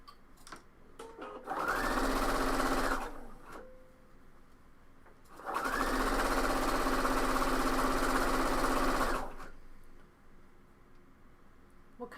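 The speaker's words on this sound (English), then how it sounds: "What kind of serger are you using?" A Baby Lock Victory serger stitches fabric in two steady bursts, a short whirring run and then a longer one, close and loud, with quiet pauses between them.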